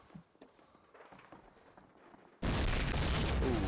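Grenade blast in Call of Duty: United Offensive, a sudden loud burst of broadband noise that cuts in after quiet scattered game sounds and holds at full strength to the end.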